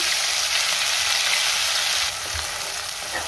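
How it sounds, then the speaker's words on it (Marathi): Onion paste for Dhaba-style shev bhaji sizzles steadily in hot oil in a pan, a loud, close, continuous frying hiss that eases slightly partway through, with no talking. "पेस्ट तयार करून घेतलेली ती घालायची आणि छान परतून घ्यायचा कांदा"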